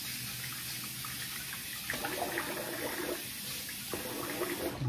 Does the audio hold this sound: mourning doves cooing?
no